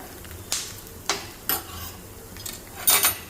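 Peanuts being roasted in a pan for chutney, with a spatula scraping and clinking against the metal in sharp separate strokes over a faint sizzle, close and without talk.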